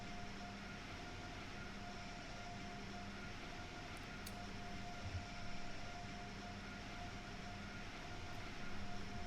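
An Acela Express train pulling into a station in Train Sim World 3, heard as a low, steady rumble with a faint constant hum and no voices.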